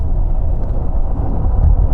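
Loud, steady low rumble of a car driving hard on the road, heard close with no voices.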